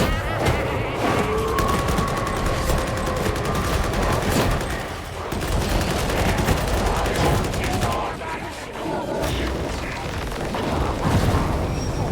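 Dense, sustained gunfire in Warhammer 40,000: Darktide, played as a Skitarii on Auric high intensity difficulty, with loud overlapping shots and booms layered with game effects in a constant barrage.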